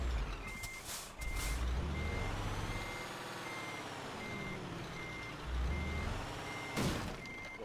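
A Scania truck reverses with steady, evenly spaced electronic beeps over the low rumble of its idling engine, with hissing air-brake bursts at the start and near the end.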